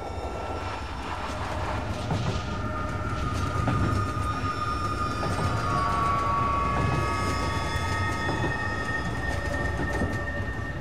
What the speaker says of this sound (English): followed the train as it rumbled across the Siberian landscape